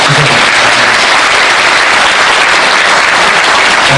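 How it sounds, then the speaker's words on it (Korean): Lecture audience applauding at a talk-show style event, a dense, steady wash of clapping that fills the whole stretch loudly and evenly with no voices over it. "여러분, 박수 한번 주세요"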